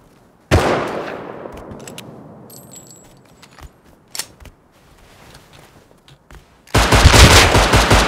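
Gunfire in the survival video game Rust: a sharp burst of shots rings out, decays into scattered clicks and small impacts, then a dense, loud volley of rapid fire closes the stretch.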